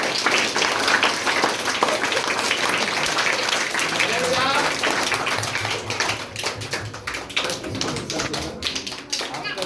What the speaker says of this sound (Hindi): एक बार चाहेंगे उनको स्वागत में जोरदार तालियां होना चाहिए।